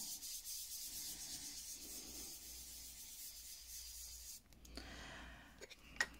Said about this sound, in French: je viens prélever de l'encre avec ma mousse